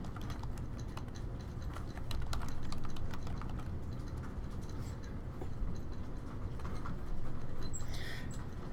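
Steady typing on a computer keyboard while entering records into an Access database form: continuous quick key clicks with slightly louder bursts, close and fairly quiet, with no speech.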